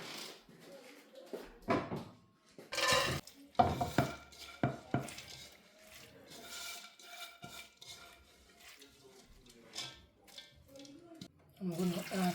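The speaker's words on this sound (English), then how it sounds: "I'm going to transfer it in a bigger pot." Ukwa (breadfruit) is moved from one cooking pot into a larger pot, with clanking metal, scraping and splashing in bursts close by, and a voice speaking quietly between the knocks.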